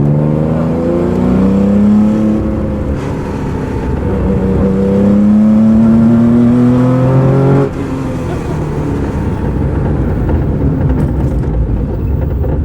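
Porsche 911 RSR recreation heard from the passenger seat, its loud engine revving up in rising pulls with a clear gear change before climbing again, close and dominant throughout.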